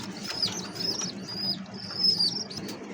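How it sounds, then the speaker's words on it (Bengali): Pigeons, high-flier Pakistani and Giribaz breeds kept with young chicks, flutter and flap their wings close by in repeated short bursts, with faint chirps and coos over a steady low background. "আরো এক জোড়া বাচ্চা হাইফ্লার পাকিস্তানি জি গ্রিবাস কবুতর"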